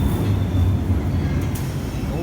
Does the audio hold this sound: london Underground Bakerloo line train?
yes